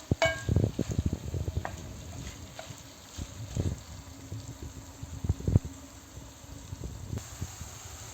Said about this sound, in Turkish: bir adet doğradığımız soğanımızı ilave ediyorum. Ve şöyle bir kavuruyorum.